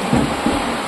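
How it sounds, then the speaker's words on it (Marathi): Heavy rain falls outside a house during a power cut, a steady, dense hiss of rain with a couple of soft low rumbles, heard alone and briefly. "बाहेर पाऊस भरपूर पडतोय बघा"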